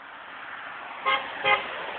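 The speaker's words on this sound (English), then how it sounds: "he's honking his little horn like a moron" A Dodge Caravan's car horn gives two short honks about half a second apart, heard over steady passing road traffic on a rural road.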